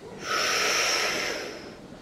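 A single long inhale through the mouth during a seated fascia stretch while folding forward, a close breathy rush swelling in over two seconds and then tapering, heard alone without talk.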